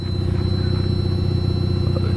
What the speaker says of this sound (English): there's the motor running. You can hear it purring just fine.